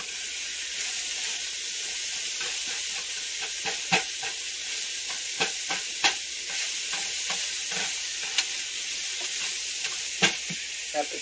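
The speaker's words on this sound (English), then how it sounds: "I'm going to go ahead and drop in my onions. And I'm going to give this a quick stir again." Onions sizzle in a pot of chicken stew under a low continuous hiss, with soft, evenly spaced stirring scrapes and occasional sharp clicks, fairly quiet and close, no talking.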